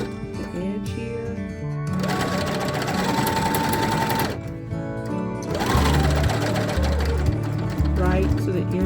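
A domestic sewing machine runs in two bursts as it bastes stitches along the edge of sheet and pillowcase fabric for a blouse, a loud rapid mechanical whir that briefly pauses in the middle.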